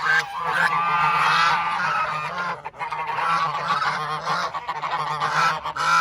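A flock of mixed-breed farm geese honks loudly and continuously nearby, harsh overlapping calls filling the air with no pauses.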